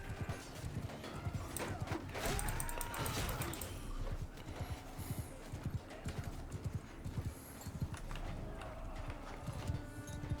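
Horse hooves clip-clopping at a gallop in the Mount & Blade 2 Bannerlord video game, with a rapid continuous hoof rhythm, a brief whinny, and battle ambience underneath.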